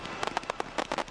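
Firework candle firing a star into the air, a rapid string of sharp crackling pops and bursts, loud and close, with no talk over it.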